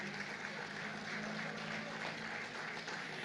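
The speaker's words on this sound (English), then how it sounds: "a big round of applause for that" A crowd gives a steady, fairly distant round of applause at the launch ceremony of the first integrated multi-fuel refuelling station in Malaysia, the clapping sustained and even throughout.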